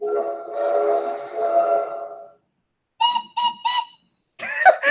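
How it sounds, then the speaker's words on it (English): A long, steady train whistle sounds, then after a pause come three short toots and a final wavering blast, clear and close. "that second whistle is so like childish compared to the actual other train sounds."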